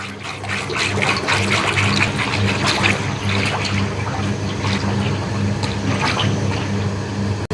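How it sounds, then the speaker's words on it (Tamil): Cooking oil is poured into a frying pan while making urad dal vadai, a steady liquid fill and trickle running without pause from start to finish. "நாங்கள் சட்டியில் வந்து எண்ணெயை ஊற்றி கொள்ளுவோம்"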